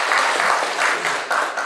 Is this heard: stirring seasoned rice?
no